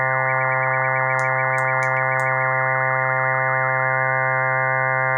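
Experimental additive synthesizer in Ableton Live holding a steady harmonic drone while one upper tone wobbles with fast vibrato that slows and fades, plus a few brief clicks, loud and continuous.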